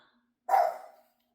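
A single short dog bark sounds indoors at a house, one clear mid-range woof rising abruptly from silence and fading within half a second.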